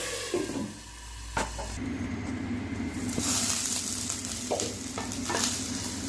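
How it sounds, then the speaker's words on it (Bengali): Snails fry in oil with a constant close sizzle and hiss, interrupted by scraping stirs and a brief knock of a utensil against the pan, the crackle swelling louder midway. "শামুকটা একটু ভাজা হোক,"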